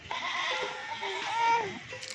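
A Rajanpuri goat bleats close by, a wavering nasal cry lasting about two seconds with faint background noise.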